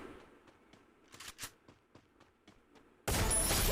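A rapid string of sharp gunshot pops from the video game Free Fire, some in quick bursts, fairly distant, followed by a sudden loud burst of broadband noise.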